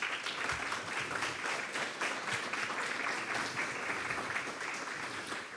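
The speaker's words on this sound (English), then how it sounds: "they need a round of applause." Audience at a community group gathering applauds steadily, a fairly soft, even bed of many hands clapping with a few sharper claps near the start and no speech.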